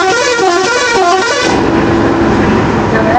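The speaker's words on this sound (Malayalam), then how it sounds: "ഇയാളെ ഹോണൊക്കെ അടിക്കാൻ ഭയങ്കര, ഇവിടെ ഹോൺ അടിക്കാൻ പാടുണ്ടോ?" Bus horn honking on a forest road, a loud sustained multi-tone blast that cuts off partway and gives way to engine and road noise.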